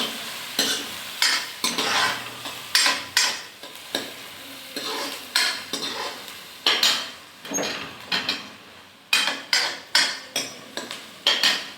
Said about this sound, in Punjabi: ਲਓ ਜੀ ਆਪਾਂ ਪਿਆਜ਼ ਭੁੱਜਿਆ ਹੈ